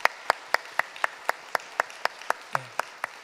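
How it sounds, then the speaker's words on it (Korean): During a Korean church worship service, hands clap in a crisp, evenly spaced rhythm, about four sharp claps per second, clear and moderately close with little else around them. "박수하겠습니다."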